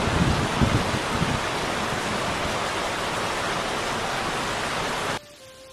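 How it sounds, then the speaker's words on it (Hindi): Heavy rain pouring through the night, a dense, loud, continuous roaring wash that holds steady for several seconds before cutting off abruptly into near silence. "पूरी रात बहुत तेज बारिश होती है।"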